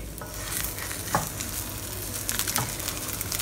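Egg foo young, a Chinese omelette topped with chopped spring onion, sizzles steadily in a pan while a utensil scrapes and nudges it around, a close continuous fry with no talking.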